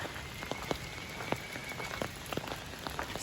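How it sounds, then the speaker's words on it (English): Steady rain falls on a hot day that has turned cool, a dense, even patter with scattered louder drops close by and no voices. "So it's raining."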